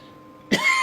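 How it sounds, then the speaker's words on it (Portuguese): A single sharp cough, close and sudden, after a moment of near quiet indoors. "começo a tossir, porque está muito abafado aqui também"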